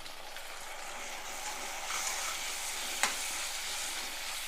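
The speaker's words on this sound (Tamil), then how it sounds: "இது வதங்கட்டும் வெங்காயம் பாதி அளவு வதங்கிருச்சு" Onions and tomatoes sauté in a pan for an eggplant curry, giving a constant soft hissing sizzle throughout with one sharp utensil tap near the middle.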